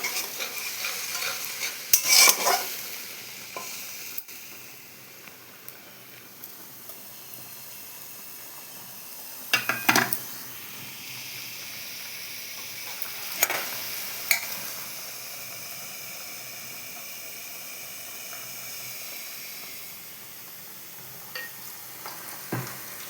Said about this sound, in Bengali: এই যে মশলাটাকে ভালো করে কষিয়ে নেবো,